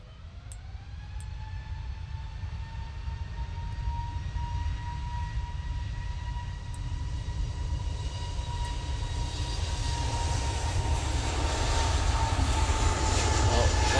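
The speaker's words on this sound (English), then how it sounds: "Let's get that Easyjet flight. Going off to Amsterdam Schiphol now." An easyJet jet airliner departing Manchester for Amsterdam Schiphol, its engines spooling up with rising whining tones over a low rumble that grows steadily louder into a broad takeoff roar, with a voice talking faintly at times.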